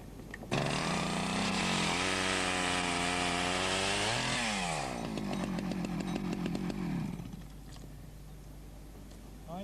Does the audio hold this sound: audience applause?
no